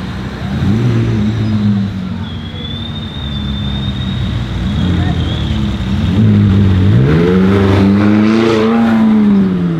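Supercars, including a Lamborghini Aventador Roadster and an Audi RS6, rev and pull out at the start of a Modball rally stage from Geneva, engines droning steadily and then climbing in pitch as they accelerate close by.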